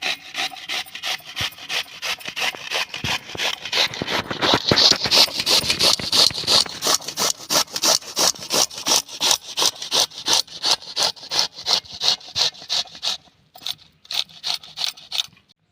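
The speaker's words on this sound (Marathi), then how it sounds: "आता बटाटा आपण किसून घेऊया।" Rhythmic rasping strokes of potato being grated, fast and steady, close up with no talking.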